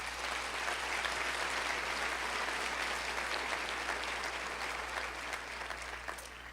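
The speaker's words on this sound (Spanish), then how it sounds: "Puedes darle un aplauso a Jesús." A church congregation applauds steadily, a dense wash of clapping that holds for several seconds and eases slightly at the end.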